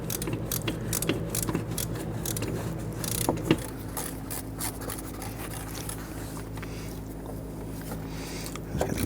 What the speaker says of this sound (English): You can go ahead and put a deep socket on there with your ratchet. And go ahead and loosen and remove that bolt.